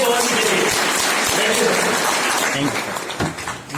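Loud, dense applause fills a business meeting hall, sustained throughout and thinning slightly toward the end, with some voices mixed in underneath.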